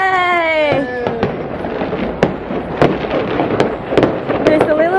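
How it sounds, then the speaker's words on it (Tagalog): Fireworks burst over Melbourne on New Year's Eve, a string of sharp pops and cracks at irregular intervals, some near and some distant, while a voice is heard at the start. "look, man, it's a fireworks."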